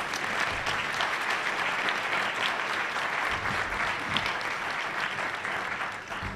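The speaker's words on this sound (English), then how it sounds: "please give them a warm round of applause." An audience at a National Press Club luncheon gives a warm round of applause: sustained, dense clapping from a sizeable crowd, steady and lively before tapering slightly at the end.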